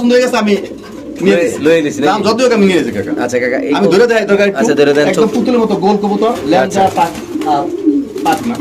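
Many white racer pigeons at a bird market coo in a dense, continuous burbling chorus, loud and close, with people talking over the birds throughout.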